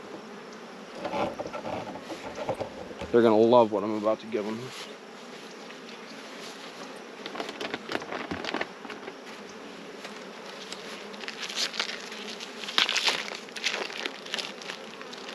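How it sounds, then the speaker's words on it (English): Honeybees buzz in a production hive box, a dense steady hum near and all around, with someone briefly talking over it and some handling clatter. "a good looking box of bees below"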